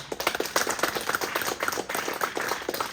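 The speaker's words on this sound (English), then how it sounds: "Just clap your hands to Him." Church congregation clapping their hands during a sermon, a roomful of quick, rhythmic claps sustained throughout at moderate volume.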